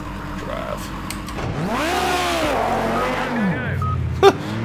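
A race car engine in the Project CARS 2 racing game revs up and down in sweeping, rising and falling pitches, loud and continuous, with a short sharp knock near the end.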